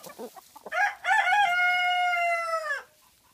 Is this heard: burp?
no